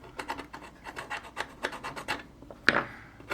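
Sanding stick filing a wooden model ship part, a steady series of short rasping strokes in a quick rhythm, close and clear with no talk, ending in a sharper scrape.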